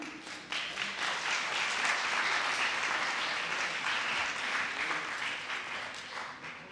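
Sustained applause from an audience at a children's school assembly in Lahore, steady and dense for several seconds and then tapering slightly. No voices are heard over it.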